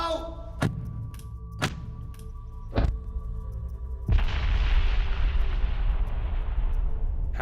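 A Bangalore torpedo fired by Royal Engineers: a few sharp, separate thuds give way to a heavy blast whose broad, rumbling roar carries on and slowly fades over several seconds.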